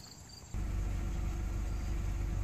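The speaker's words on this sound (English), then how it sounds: "So it's been idling for a little while now. It's at 750 and it's not stalling." A four-cylinder car engine fitted with new Autolite spark plugs idles steadily at about 750 rpm, a close, even low rumble that starts abruptly and holds without faltering.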